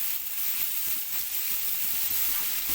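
Garlic and ginger sizzle steadily in hot oil in a pan, a constant close bright hiss with faint crackles and no talking.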